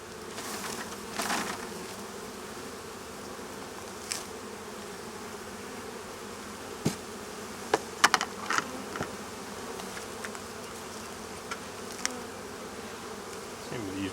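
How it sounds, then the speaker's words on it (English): Honeybees buzz in a dense, steady drone as they are shaken off hive frames into the hive, with a few sharp knocks and clicks from the frames scattered through. "I'm going to shake these bees off into the hive."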